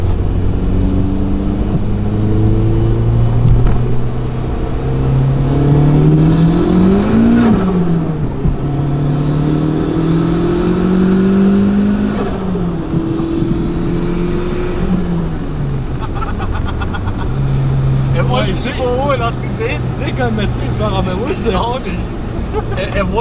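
A 1.0-litre VW Lupo accelerates hard on the Autobahn, its engine droning loudly and rising steadily in pitch through the gears, with a passing vehicle and voices talking inside the car.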